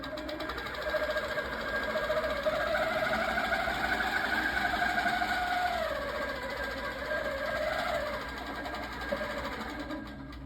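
A Janome QM18 quilting sewing machine runs continuously with a steady mechanical hum and a rising and falling whine as the stitching speed shifts, close and even throughout, with no talking.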